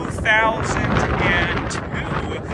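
Wind buffeting a microphone outdoors, a loud continuous rushing roar with gusty swells, while someone talks over it.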